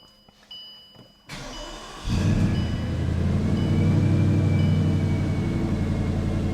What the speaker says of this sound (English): I'll fire it up so you can hear that incredible V8.